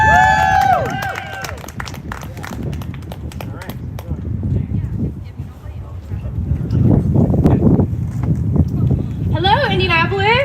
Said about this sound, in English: let's give a great big hand of applause because Gal Fran just graduated